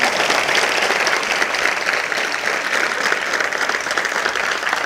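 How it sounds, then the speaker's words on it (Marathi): An audience claps steadily and densely at a speech event, a loud, sustained wave of applause with no break. "हे फोटोवाल्या दादासाठी एकदा वाजवा बरं टाळ्या"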